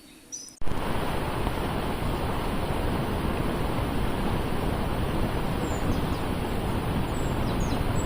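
Steady roaring rush of the Dzhuryn waterfall, falling from a spring near a rock grotto, loud and continuous after a brief quieter moment at the start.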